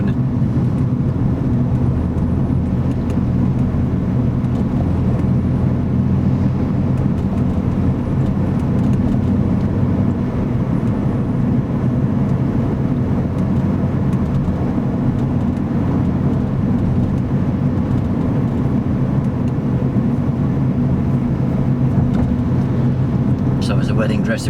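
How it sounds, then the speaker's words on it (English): Steady road traffic rumble from other cars passing during a driving lesson, a continuous loud low drone of engines and tyres heard from inside a moving car, with occasional voices over it. "And there's other cars coming."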